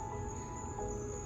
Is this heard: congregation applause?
no